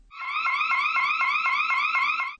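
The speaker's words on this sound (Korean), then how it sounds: "곧바로 사이렌이 큰 소리로 울리고 화장실 밖에 달린 경광등도 요란하게 번쩍입니다" A loud electronic siren alarm in a women's restroom wails in rapid repeating rising sweeps, pulsing steadily several times a second with nothing else heard.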